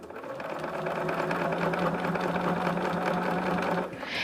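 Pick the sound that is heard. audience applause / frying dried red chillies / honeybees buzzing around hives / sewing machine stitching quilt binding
sewing machine stitching quilt binding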